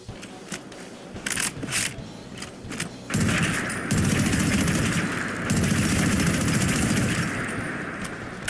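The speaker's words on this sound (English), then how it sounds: "The Rheinmetall Maschinengewehr 34, or MG34 for short, a very cool German LMG from Modern Warfare 2019." MG34 German light machine gun fire in a Fallout 4 mod, with short clipped bursts of shots early on, then louder sustained rattling fire with heavy low-end rumble running nearly continuously to the end.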